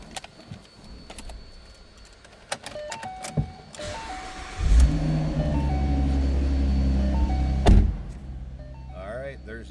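A 2013 Ford Mustang Convertible: a few soft dash chimes and clicks, then the engine cranks and catches with a surge at about the midpoint and settles into a steady low idle, followed by a final thump.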